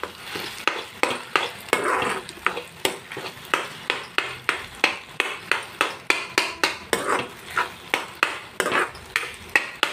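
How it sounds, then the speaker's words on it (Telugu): Goat brain pieces with ginger-garlic paste being stirred in oil, a steady run of sharp rhythmic scraping clinks from a spoon against the pan over a soft sizzle, close and fairly loud, with no talking. "ఇప్పుడు ఇందులోకి ఈ బ్రెయిన్ పీసెస్ని వేసేస్తున్నాం. ఒకసారి కలిపేద్దామండి."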